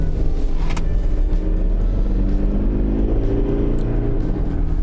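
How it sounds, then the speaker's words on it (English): An engine drones steadily from inside a 2021 Toyota Granvia VX van, its pitch climbing as it accelerates under a constant road rumble. "You can still hear that motor when you put your foot down"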